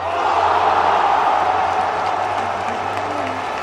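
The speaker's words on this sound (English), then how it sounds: "Fans can now scream and cheer, even if they can't be there in person." Remote fans scream and cheer for a live virtual talk show, relayed through a video call as a steady, slightly compressed roar of crowd noise with no break.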